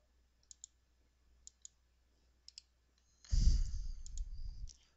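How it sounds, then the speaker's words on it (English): Several crisp computer mouse clicks in quick pairs on a PC running MetaTrader 4 trading software, sounding close and quiet, followed by a louder stretch of low rumbling handling noise with no talk. "Now I'm actually clicking on the indicator."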